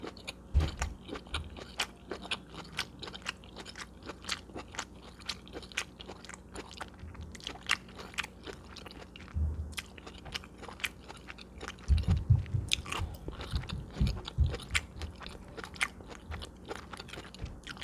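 Close, steady chewing and crunching of chicken parm and broccoli, with wet bites and soft mouth sounds repeating continuously and no talking.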